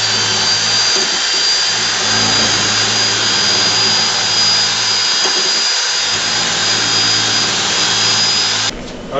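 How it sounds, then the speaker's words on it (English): A power drill fitted with a sanitized stirrer attachment mixes fruit juice concentrate and water for homemade wine, a loud, steady whirring drone that holds for about nine seconds before cutting off abruptly. "I've got my stir on the end of my drill here, my sanitized stir. We're going to go ahead and stir that up."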